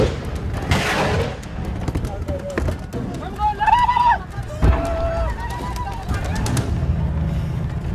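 Gunfire in a firefight during an ambush in South Sudan, with scattered bangs and cracks at varying distances, partly masked by shouting voices.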